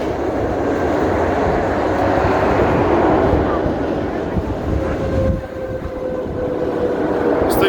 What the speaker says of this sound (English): This thing sounds like a jet engine.